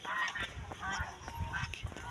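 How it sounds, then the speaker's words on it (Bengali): Waterfowl on a village pond, ducks by claim but sounding goose-like, give repeated honking calls at moderate distance over an outdoor ambience, several bursts spread across the short span. "এই যে পুকুরে কত হাঁস"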